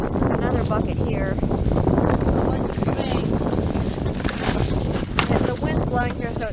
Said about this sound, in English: And the wind's blowing here, so it's blowing all the dust and dirt all over the place in our faces.